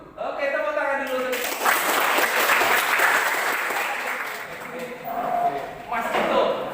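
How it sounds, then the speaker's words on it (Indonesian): A group claps together in a classroom or workshop session, a short burst of applause mixed with voices talking over it and tapering toward the end. "Oke, tepuk tangan dulu."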